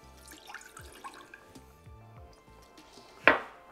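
Water is poured into a pan on a Chinese takeaway-style home kitchen stove for a sauce: a soft running trickle with light clinks and drips, ending in a sharp clatter of cookware.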